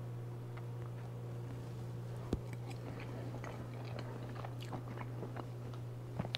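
Someone eats tuna salad piled on Ritz crackers, with soft close-up chewing and occasional sharp crunches of cracker over a steady low background hum, no talking.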